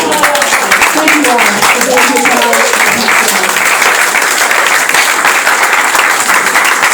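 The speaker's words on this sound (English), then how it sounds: "please let's give a round of applause to our panel" Audience applause for a town-hall dialogue panel, steady dense clapping throughout, with voices and speech-like tones mixed in near the start.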